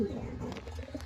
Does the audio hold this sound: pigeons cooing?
yes